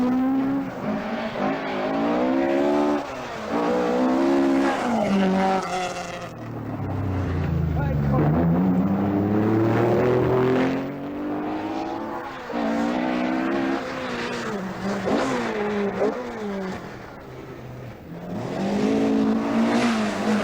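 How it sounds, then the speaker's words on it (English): Rally cars, including a Vauxhall Chevette, race at the 1980 Galway International Rally, engines revving and rising in pitch as they pass, under steady commentary. "the Henley Forklift International Galway has a new leader in Jimmy McRae and the Vauxhall Chevette"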